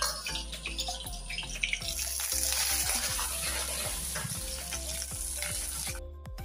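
Garlic frying in hot oil for a pigeon meat curry, a steady loud sizzle with scraping stirs and clinks throughout, cutting out sharply near the end.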